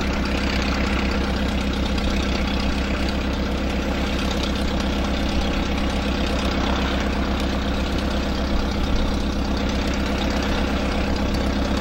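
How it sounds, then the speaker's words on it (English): The only airplane based at a small airfield, a small plane engine, runs at a steady idle with an even, continuous rumble and drone close by for the whole stretch, with no voices. "another engine roared to life ahead of me from the only airplane based at the field"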